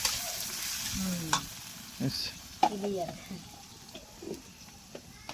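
Onion paste and spices fry in a pan for a rohu fish-head muri ghonto, sizzling steadily while a spoon scrapes and stirs in irregular strokes, with voices talking over the cooking.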